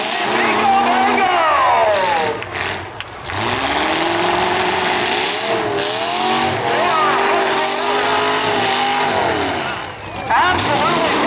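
Pickup trucks in a demolition derby heat roar and grind against each other, engines revving hard, tires squealing and skidding, with dull impacts breaking through a continuous mechanical din while a commentator talks throughout.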